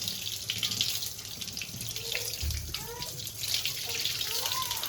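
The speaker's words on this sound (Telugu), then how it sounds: "ట్యాప్ ఆన్ చేసుకుంటే మీకు ఎట్లా చూపించాలి" Water runs from a tap in a steady, moderately faint stream with a light splash, heard close by without any talk.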